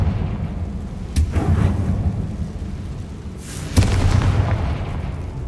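Two deep, booming blasts from the Confringo explosion spell in Hogwarts Legacy, cast inside a tomb, each a heavy thud with a rumbling tail over a low ambient drone.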